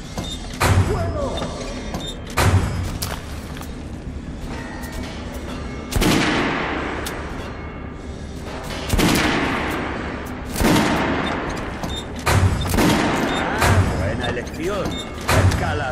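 A volley of loud video-game gunshots at a shooting range rings out in bursts, several sharp reports spaced a few seconds apart, with voices talking underneath, from Metro Last Light Redux.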